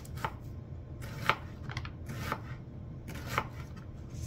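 A knife chops food on a cutting board for Japanese gyudon, giving four spaced, crisp cuts over a faint background hum, close and fairly quiet.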